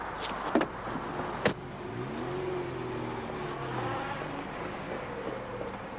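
A car pulls away and accelerates, its engine rising then fading steadily over several seconds, with two brief sharp knocks like a door closing near the start.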